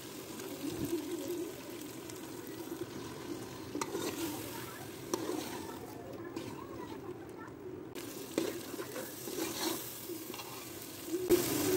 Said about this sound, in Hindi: अब हम इसमें चने की उबली हुई दाल मिलाएंगे।